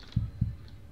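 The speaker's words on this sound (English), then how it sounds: "I hear the heartbeat." Two low, thudding heartbeat pulses warn of danger in the video game Flee the Facility, a quick double beat near the start of a quiet stretch, with no talk over it.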